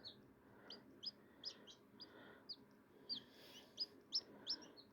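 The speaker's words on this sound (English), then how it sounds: "I got all kinds of little chicks now" Newly hatched baby chicks peep beside an incubator in a steady series of high, thin chirps, close but soft, over a faint background hum.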